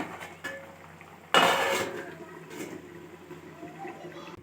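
A metal lid clanks onto a pot of simmering stuffed brinjal curry in a home kitchen, one sharp close clatter after soft background bubbling, with faint kitchen noise following.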